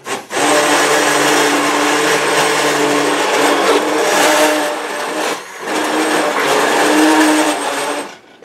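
An immersion blender whirs steadily through soup in a pot, a loud, continuous motor drone that briefly dips once, then resumes and cuts off at the end.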